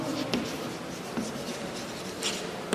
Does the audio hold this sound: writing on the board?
yes